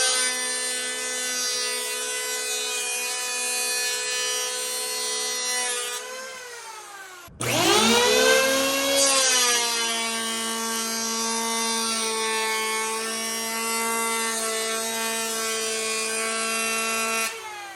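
A Wen 6 amp electric hand planer whines up to speed, then cuts a smooth pass across wood. Its loud, steady harmonic motor tone dips under load, stops briefly, restarts with a surge and runs on close by, with no voices.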